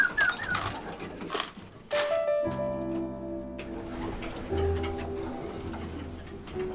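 Racing pigeons coo in a loft, soft rolling calls repeating near and far amid faint rustling and scattered wing sounds.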